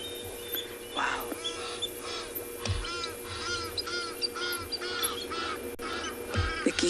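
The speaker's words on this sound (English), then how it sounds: "The geese are now chiming in." Geese call outdoors during an African afternoon safari, a series of repeated honking calls rising over a steady background hum, moderately close, with no talking.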